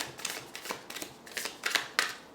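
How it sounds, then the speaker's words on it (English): Tarot cards are shuffled by hand in a series of quick papery riffles and soft slaps, close and fairly quiet, with no talking. "These cards, let's shuffle again."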